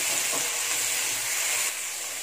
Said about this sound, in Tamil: இப்போ கேரட்டு, பீன்ஸு, சேர்த்து இவ்வளோ ஃப்ரை பண்ணிக்கலாம்.